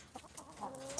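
Backyard chickens cluck softly at close range in a garden, a few brief low calls with no talk.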